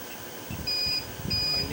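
Two short high-pitched electronic beeps from an overloaded 1000W 24V low-frequency hybrid solar inverter's buzzer sound in quick succession over a low background hum.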